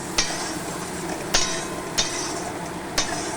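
Spice paste for a pabda fish curry being sautéed over raised heat in a pan, a steady soft sizzle under a few sharp, evenly spaced clinks of a spoon against the pan.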